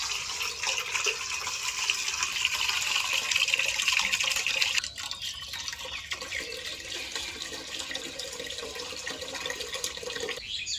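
Broken rice is swished and rinsed with water in a pot, making a continuous close splashing and sloshing that is louder at first, then settles into softer swirling water sounds.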